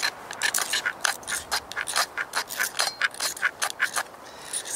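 A knife blade scrapes filings off a magnesium fire starter outdoors in a bushcraft setting, giving rapid repeated rasping strokes, close and fairly loud, in an uneven rhythm.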